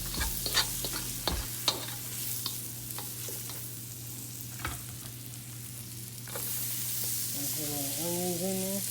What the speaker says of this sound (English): Mushrooms tend to shrink anyway when you cook them.